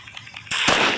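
A single loud gunshot in Granny Chapter 2 cracks out abruptly after a few faint clicks, with a short burst that rings and decays.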